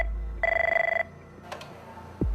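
A telephone bell gives one short trill burst of rapid repeated rings lasting about half a second, followed by quiet thumps and a brief low sweep.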